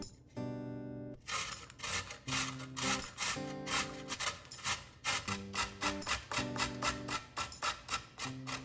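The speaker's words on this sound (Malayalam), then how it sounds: "ഞാൻ ഈ ഗ്രേറ്ററിൻ്റെ വലിയ ഹോളുള്ള സൈഡാണ് ഗ്രേറ്റ് ചെയ്യാനായിട്ട് യൂസ് ചെയ്യുന്നത്." Food, likely apple or carrot, is rubbed across the large-hole side of a box grater in quick rhythmic rasping strokes, close and fairly quiet, with no talking.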